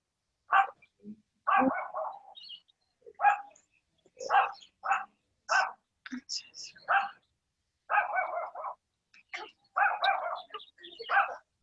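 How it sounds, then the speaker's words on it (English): Dog barking indoors during a talk, a run of loud, separate barks and yips repeating through the whole stretch, close by and dominating the room. "That's not my dog."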